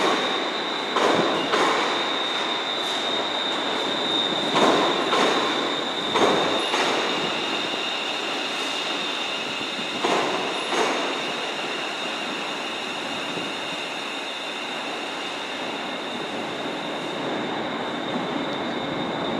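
Trains move through Glasgow Central station, wheels squealing and clacking in a string of sharp bursts over a steady rumble and a high electric whine.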